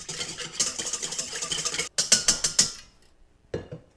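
A whisk beats sugar and dry active yeast in a bowl, giving a fast run of scraping, rattling strokes that stop, return briefly in a few sharp knocks and then fall quiet.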